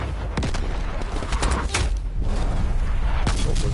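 Heavy artillery airstrike explosions in Call of Duty Black Ops Cold War, a rapid string of loud booming blasts and crackling impacts that keep rumbling for the whole stretch.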